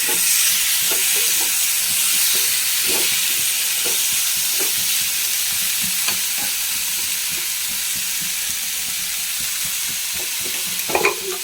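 Okra and tomato sauté together in a pan for a Kerala-style sambar, a strong continuous sizzle with frequent scraping stirs and a few sharper knocks near the end, without speech.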